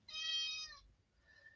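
A female house cat meows indoors: one clear, fairly loud meow followed after a short pause by a softer, fainter second call, with no voices.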